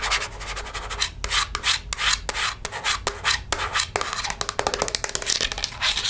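Close, rhythmic scratching of fingernails across a flat, lightly textured kitchen item, with bursts of raspy rubbing broken by short pauses, crisp and intimate with no talking.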